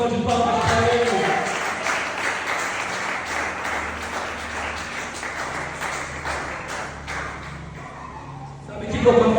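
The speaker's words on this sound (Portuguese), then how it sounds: "dá uma salva de palmas para Ele." Congregation applauding in a church service, sustained clapping with distinct sharp claps over a crowd wash, with voices mixed in and a swell near the end.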